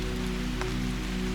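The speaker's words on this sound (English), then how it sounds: "Despite the soft sound of raindrops falling" Soft raindrops fall steadily in a castle garden, a gentle, even patter with one slightly clearer drop, over a faint low hum.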